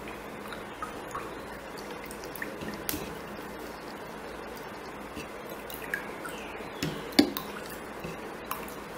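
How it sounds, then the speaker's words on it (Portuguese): Water being stirred for a homemade Frozen snow globe with glycerin, giving soft drips, trickles and light clinks of a utensil against a container, steady and close with no voices. "A gente vai misturar para ver a consistência da água"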